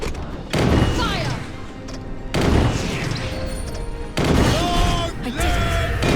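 Soldiers fire rifle volleys in the DioField Chronicle video game: three loud, booming fusillades roughly two seconds apart, each a dense crackling burst of shots that fades before the next.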